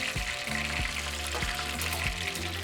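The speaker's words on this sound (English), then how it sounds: "So we're just going to remove it from the oil. Drain as much oil as possible." A fried beef milanesa cutlet is lifted out of hot oil and left to drain, giving a busy bubbling sizzle with a few soft clatters and drips, loud and close with no voices.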